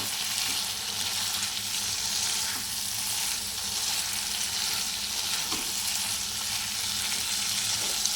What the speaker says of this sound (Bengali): সুন্দর তেল ছাড়তে শুরু করেছে আমার মশলা বেশ ভালোভাবে কষানো হয়ে এসছে